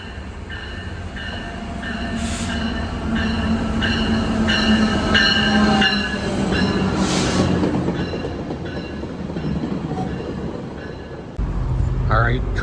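Rumbling of a VIA Rail passenger train in motion between Toronto and Ottawa, with rhythmic wheel clatter and occasional squeals, people talking faintly in the carriage.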